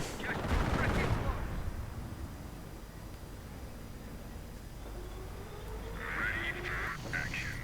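Heavy machine gun bursts and tank high-explosive fire in a World War II strategy game battle, dense rattling gunfire up close at first, then a steadier rumble of distant shooting with a further burst near the end.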